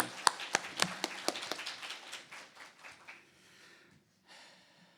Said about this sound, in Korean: 우리 마지막까지 일어나 주신 목사님 다시 한번 큰 박수 보내드립니다.